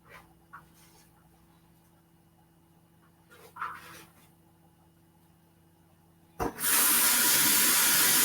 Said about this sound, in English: got the deep fryer on for the egg rolls.